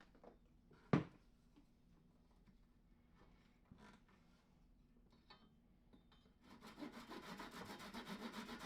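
Sanding a simple wooden 2x4 bench: after a quiet stretch broken by a sharp knock, rhythmic abrasive strokes start up and grow steadily louder toward the end.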